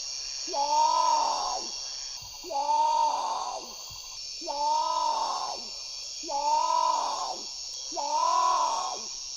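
Great potoo call: five loud, drawn-out groaning wails, evenly spaced about two seconds apart, clear and close over faint background hiss.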